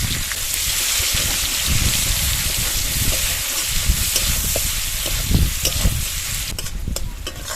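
Chopped onion frying in hot oil with five-spice seeds, a split dry red chilli and leftover prawn-frying oil, a loud continuous sizzle with occasional stirring scrapes, close and without speech.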